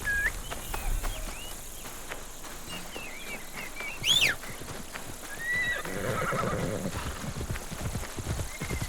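Horse hooves clip-clop at a steady gait in Assassin's Creed Shadows, close and moderately loud beneath game birdsong and insect chirps, with a horse whinny partway through and no talk.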